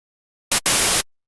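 White noise generated by an Ableton Operator synth, played as a very short hiss followed by a slightly longer burst. Both are dry and loud with abrupt starts and stops.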